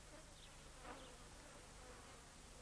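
Swarm of flies buzzing steadily over cattle dung in the Australian outback, a dense continuous drone close by with no voices.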